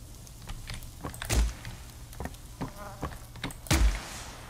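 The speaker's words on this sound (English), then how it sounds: "Flies freaked me out." Flies buzz in Poppy Playtime Chapter 3, a thin, wavering drone running among a string of sharp, fairly loud knocks and clatters, with no voices.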